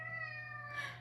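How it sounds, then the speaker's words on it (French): A house cat meowing indoors, one drawn-out tonal meow heard close and alone, rising slightly toward the end. "Et puis, il miaule tout le temps."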